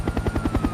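Helicopter flying overhead during an escaped-gorilla incident, steady rhythmic rotor thumping pulsing loud and close without a break, no voices.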